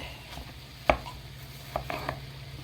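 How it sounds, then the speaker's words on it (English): Ground beef is broken up in a pan with a plastic Temu beef smasher, making a sharp tapping knock followed by a few softer scraping taps over a faint kitchen background, with no talk. "I've got my Teimu little beef smasher here that I'm using."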